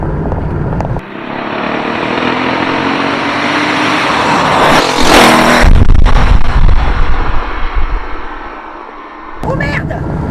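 A Porsche 930 911 Turbo roars loudly on a track, its engine note rising and surging with a sharp burst of throttle midway, then easing off, while people talk inside the car over the noise.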